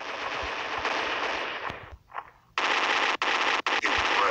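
Automatic gunfire in the Android shooter game Special Ops, long loud bursts of machine-gun fire with a brief gap and a short distant sound between them, then more bursts.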